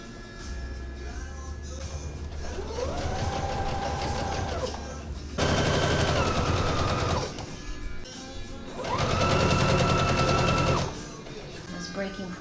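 A sewing machine stitches fabric for a caftan in two loud, rapid bursts of whirring with quieter gaps between, close by, with a low steady hum and a voice speaking underneath at times.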